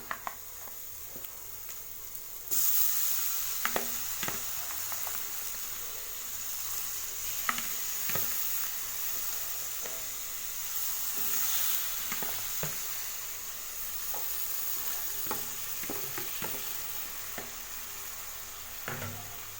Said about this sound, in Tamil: இப்போ இதை நல்லா மிக்ஸ் பண்ணி ஒரு நிமிஷம் நல்லா இதை வதக்கி விட்டுடலாம்